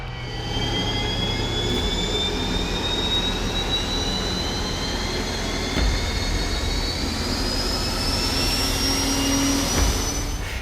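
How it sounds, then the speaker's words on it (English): Honeywell AGT gas turbine of an M1 main battle tank starting up, a steady, loud jet-like whine with rising high-pitched tones over a broad rushing roar, continuous and without speech. "When you first hear the engine of an M1 start, you immediately realize that this isn't just any main battle tank."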